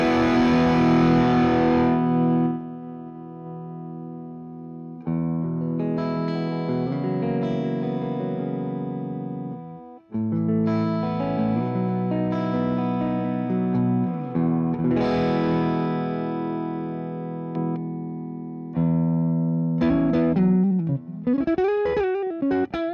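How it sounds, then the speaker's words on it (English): Electric guitar played through a mini tube amp on a cleaned-up setting, a series of ringing chords and picked phrases with sustained notes, loud and close, ending in a wavering bent passage. "Now let's hear how well it can clean up on this setting."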